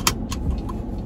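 A car driving, with a low, steady engine and road rumble close by for about a second and no talking.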